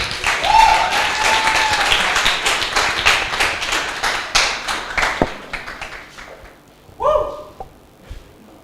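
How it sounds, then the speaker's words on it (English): Open mic night audience claps to welcome a poet to the stage, a dense burst of applause that thins into scattered claps and a few knocks before a final brief flourish. "Can we welcome her with a huge round of applause, guys?"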